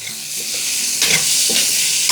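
Bell peppers in three colours stir-fried for soya fried rice, a bright continuous sizzle with a couple of louder bursts as the spatula turns the pan.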